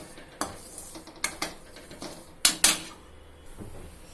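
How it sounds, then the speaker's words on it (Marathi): Barnyard millet (bhagar) roasts in a pan while a spoon stirs and scrapes it, giving a soft continuous rustle broken by a few sharp metallic clinks, close and fairly quiet. "हा भाकर छान तांबूस शेकून काढूया थोडासा लालसर होईपर्यंत"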